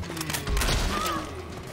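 Gunfire rattles in Left 4 Dead 2, a steady stream of rapid shots and thumps amid chaotic in-game noise, with players talking over it.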